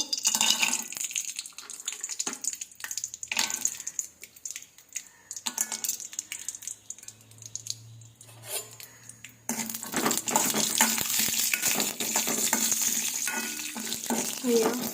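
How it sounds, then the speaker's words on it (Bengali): Cashew nuts frying in ghee over a low flame hiss and crackle in uneven bursts, with stirring and a pan scraping, then a louder, steady sizzle in the latter half. "এই ঘিয়েতে এবার কাজু বাদামগুলো আমি ভেজে নেব।"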